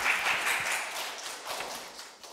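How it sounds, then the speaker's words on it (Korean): Audience applause at a critics' festival welcomes the next speaker, a brief burst of clapping fading over two seconds. "박수 한번 쳐주시죠"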